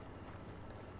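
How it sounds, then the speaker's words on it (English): A brief, steady low rumble and wash of a boat motoring past in Fortnite, heard alone with no voices. "I hear a boat."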